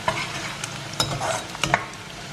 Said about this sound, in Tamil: ஸோ இங்கே நம்மளோட பூண்டு வந்து நல்ல கோல்டனாக ஃப்ரை ஆயாச்சு